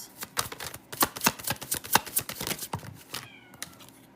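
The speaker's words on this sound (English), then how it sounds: "You hear the cat?" A cat meows briefly near the end of a run of sharp, rapid clicks and slaps from tarot cards being shuffled and laid down nearby.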